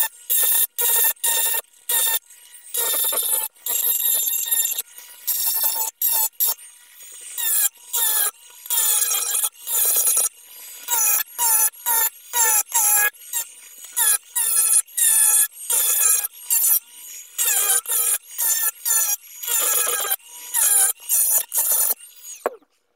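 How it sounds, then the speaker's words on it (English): A rotary tool's grinding tip roughly grinds excess metal off a Spider-Man web shooter cosplay prop in short, repeated high-pitched rasping bursts separated by brief pauses, close and alone. "use this grinding tip and start to roughly grind away some of the excess"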